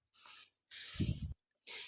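A handheld sprayer mists papaya leaves in the dry season, giving three separate hissing bursts with short silent gaps between them, close and fairly soft.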